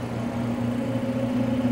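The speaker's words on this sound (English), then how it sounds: "And you can hear that the vacuum pump going through the exhaust right now." A vacuum pump on a Vacuum Atmospheres VT-523-3 glove box drones steadily as it draws inert gas out through the exhaust, a close, even mechanical hum with a low pulsing throb and no break.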